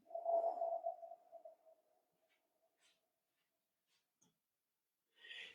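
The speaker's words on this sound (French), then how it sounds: "Et on souffle le son OU." A single soft exhaled breath voiced as a long "ou" during a breathing exercise, close and gentle, fading over about two seconds into near silence with a faint breathy puff at the end.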